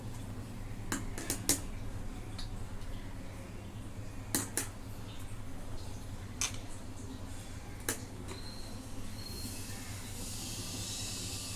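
Metal plates of an idli steamer stand being set and fitted into place, giving a handful of sharp, bright clinks and taps spaced irregularly over a steady low hum, fairly quiet overall.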